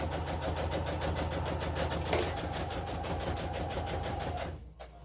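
A sewing machine stitches rows of a Trip Around the World quilt, a fast, steady mechanical chatter that runs loud and close before slowing and stopping near the end.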